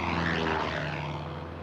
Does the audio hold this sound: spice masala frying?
no